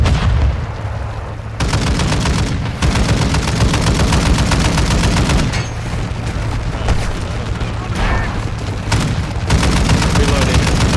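Sustained automatic gunfire in COD Warzone aimed at an Apache attack helicopter, loud and dense with rapid bursts, brief pauses for reloading, and voices talking underneath.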